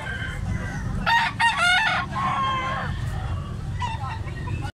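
A young gamecock stag crows close by, a loud harsh cock-a-doodle-doo in the middle followed by a shorter call, over steady background chatter and a low rumble.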